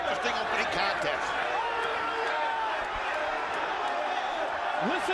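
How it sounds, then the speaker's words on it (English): Wrestling crowd in Nashville, Tennessee roars at a TNA Slammiversary 2007 show, a dense, steady wall of cheering and shouting from a large arena audience, with occasional whistles and claps throughout. "Listen to the crowd here in Nashville, Tennessee"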